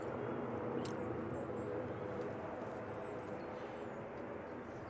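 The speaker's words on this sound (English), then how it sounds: "That EasyJet was practicing for London City departures because they're trying to get their aircraft going out there." A distant EasyJet airliner departing Manchester Airport, a faint, steady engine roar with a broad rumble that stays even and slowly eases away.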